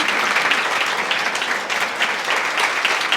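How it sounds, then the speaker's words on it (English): Audience at an Impact 100 Redwood Circle event giving a round of applause, dense steady clapping filling the room throughout. "Please join me in a round of applause."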